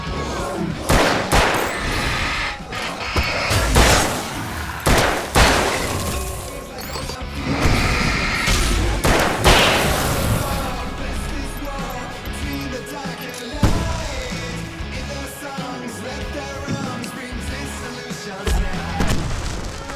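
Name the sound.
fireworks exploding in video game Alan Wake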